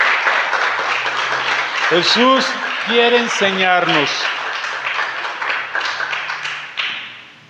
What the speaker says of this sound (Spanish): ¿Por qué no le damos un aplauso al Señor?